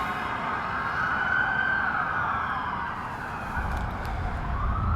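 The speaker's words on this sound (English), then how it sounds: "Sirens, man, I tell ya." An emergency vehicle siren wails on a Washington, D.C. street, its rising and falling tone moderately distant over a rumble of passing car traffic, with no one talking.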